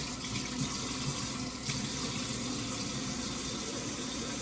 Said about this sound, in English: So now I'll wash these things because I'm not playing with this food.